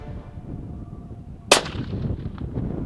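A single sharp rifle shot cracks out at a bull during a South African hunt, a sudden loud report with a short decaying tail over quiet outdoor background noise.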